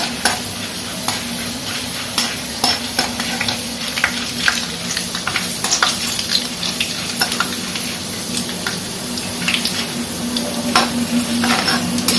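Chana dal frying in hot oil while being stirred for a tomato chutney, a steady close sizzle with a continuous crackling hiss and frequent light scraping of the spoon against the pan, no voices.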